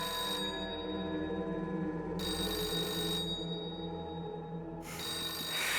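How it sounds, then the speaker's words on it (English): A telephone bell rings in bursts inside a video game set in a hotel, loud repeated trills with pauses between them over a steady droning game ambience. "Is the phone that we flushed down the toilet back to haunt us?"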